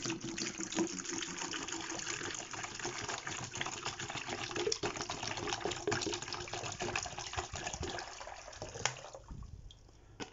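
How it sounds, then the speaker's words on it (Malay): Clean water, about one liter, poured into a container while preparing a fertilizer mix for a bougainvillea bonsai; a steady broadband pouring rush fills most of the stretch, then eases off near the end. "Jika anda menggunakan air bersih ya, 1 liter, masukkan dalam bekas."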